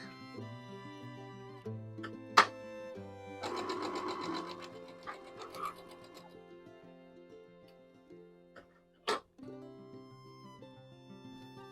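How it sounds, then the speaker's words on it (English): A sewing machine stitches a quilt block in a short, fairly quiet run of rapid stitches, surrounded by faint handling noises and a couple of sharp clicks. "I'm going to sew right off the block."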